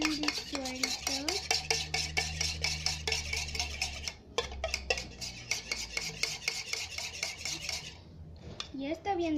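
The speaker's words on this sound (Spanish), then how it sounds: "Y ahora vamos a batir con nuestro pegamento" Water and glue whisked in a bowl to make slime, a rapid steady run of scraping, clinking strokes that pauses briefly midway and trails off at the end, with no talk.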